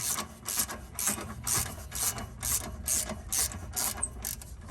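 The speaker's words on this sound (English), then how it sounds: "you could put a ratchet on them" Rapid rhythmic ratcheting from a wrench turning bolts during a rear wheel unit bearing replacement on a 2014 Kia Soul, repeated bursts of clicking close up with no talk.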